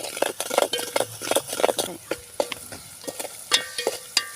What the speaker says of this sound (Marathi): तेलामध्ये आता आपण आलू टाकून घेऊ तेलामध्ये आलू सोडले आहे